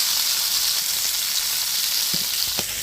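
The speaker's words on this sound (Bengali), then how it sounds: "সম্পূর্ণ মাছটা দিয়েছি, এখন আমি একটু উল্টো পাল্টে ভেজে নেব।" Steady sizzling of surma fish frying in hot oil in a pan, a dense continuous hiss with a couple of faint clinks near the end.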